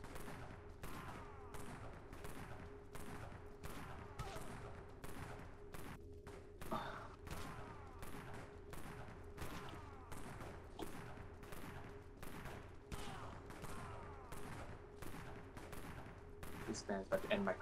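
Rapid, evenly spaced gunshots in Dead Frontier PvP, a long steady stream of sharp reports fired in quick succession, with faint talk and a final cluster of louder bangs.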